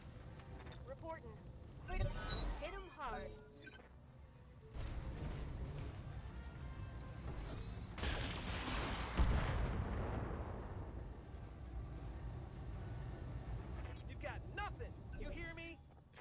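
Mech launching missile volleys in the Battletech video game, a booming salvo around two seconds and a longer roaring barrage from about eight seconds, with steady game rumble and talk throughout.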